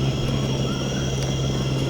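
Helicopter flying in Jurassic Park Operation Genesis, a steady droning engine whir with a strong low hum and high whine, loud and unbroken throughout.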